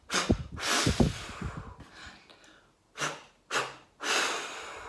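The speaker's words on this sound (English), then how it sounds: "a few big breaths" Several big breaths during a singing warm-up for an alto voice lesson: deep inhales and exhales, with a cluster of close breathy bursts early on, then three separate clear breaths, loud and near.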